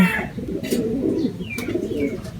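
Young racing pigeons arriving at a loft during a training race, soft cooing and scattered chirps over a muffled background murmur, close by with brief sharp calls.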